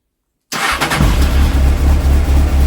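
After half a second of silence, a Honda CBF600S motorcycle engine cranks and catches, then settles into a loud, close, steady idle with a pulsing rhythm.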